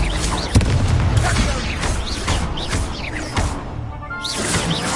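Confringo blasting-spell explosions in Hogwarts Legacy during a spell duel on PS5: a dense, loud run of booms, crashes and whooshes with a strong impact near the start, a continuous layered game battle mix.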